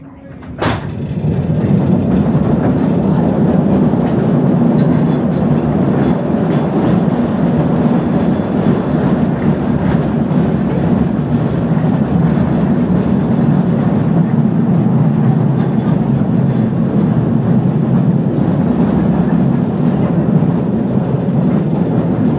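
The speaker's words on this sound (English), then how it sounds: "please hold on tight to the train" A mine train rumbles steadily through the Hallstatt salt mine tunnels, a loud continuous low roar with rattling wagons and faint clickety-clack, running alone without talk for the whole stretch.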